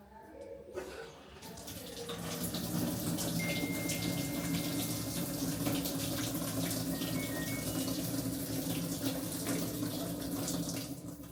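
Water rushes steadily into an LG washing machine under repair, a continuous hissing, splashing flow that starts after a brief click and stays loud and even to the end.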